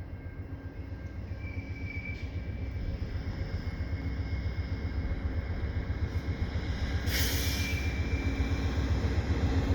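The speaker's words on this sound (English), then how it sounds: "Yeah, it's a Via train." A Via Rail passenger train, a P42DC locomotive with Budd coaches, crosses the Lachine Canal bridge in winter, rumbling past steadily, its low roar and wheel noise building slightly, with a brief hiss of air partway through.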